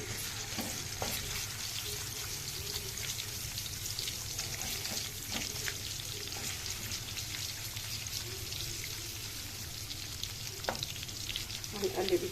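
Garlic frying in a pan gives a continuous soft sizzle close by, broken by scattered light crackles and a few sharp pops across the whole stretch.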